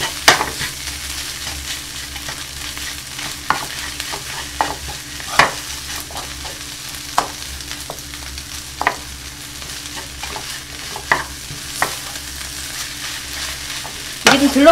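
Kimchi fried rice being stir-fried in a pan: a steady sizzle with repeated scraping and tapping of the spatula against the pan, close and continuous, with no talking.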